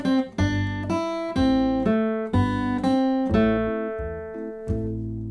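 Plucked banjo playing the C part of a tune, crisp picked notes in short phrases with the last tones left to ring, no voices.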